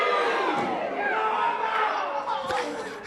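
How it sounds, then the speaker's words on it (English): A wrestling arena crowd jeers and yells at an angry wrestler heading into the ring, a dense wash of massed voices with rising shouts and a few sharp bangs, under a commentator's talk. "And the crowd is just giving it to him for being angry"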